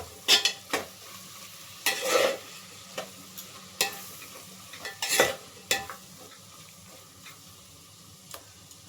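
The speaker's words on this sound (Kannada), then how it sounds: "ಇವಾಗ ವಾಂಗಿಬಾತ್ ಪೌಡರ್ನ ಆ್ಯಡ್ ಮಾಡ್ತಾಯಿದ್ದೀನಿ. ನೀಟಾಗಿ ಮಿಕ್ಸ್ ಮಾಡ್ಕೊಳ್ಳೋಣ." Vangi bath powder is stirred into a frying mixture in a pan: irregular scraping strokes and spatula knocks over a low sizzle, loud at first, then thinning out toward the end.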